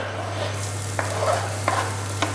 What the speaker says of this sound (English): you see that starting to sizzle